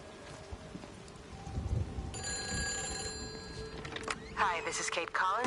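A telephone rings in the video game Everybody's Gone to the Rapture, a bright repeating electronic trill that starts partway through, over rustling ambience, with a person talking before and during the ring.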